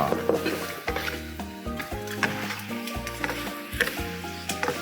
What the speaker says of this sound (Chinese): 我们把虾子倒下来然后把它翻一下